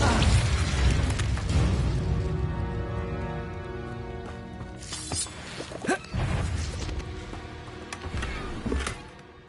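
An Incendio fire spell cast in Hogwarts Legacy, bursting with a heavy boom, crackling flame and clashing impacts over a sustained musical drone, followed by further sharp hits and crashes.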